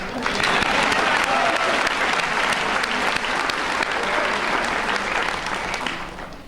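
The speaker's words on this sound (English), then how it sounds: "They too deserve a round of applause for always being there." A school audience at a lower school valedictorian address claps for teachers, a full, sustained burst of applause lasting about six seconds at even strength before tapering off.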